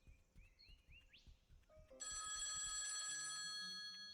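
A house telephone rings loudly and steadily from about halfway through, a sustained electronic ring following quieter background sounds and brief chirps.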